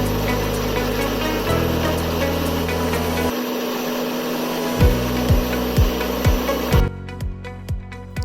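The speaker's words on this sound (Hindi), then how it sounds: "और इसके बाद हम इसको ग्राइंड कर लेंगे" A kitchen grinder blends hummus ingredients with lemon juice, a steady loud motor whir that cuts out briefly, then returns with rhythmic pulsing bursts and stops near the end.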